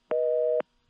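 A single clean local telephone busy-signal beep from a 1982 oil company CCSA network, about half a second long, clear and alone with near silence on either side and no carrier noise.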